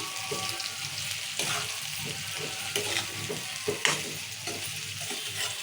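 Drumsticks fry in oil with salt in a pan, a dense continuous sizzle with scraping and stirring knocks throughout, close and prominent, with no talking.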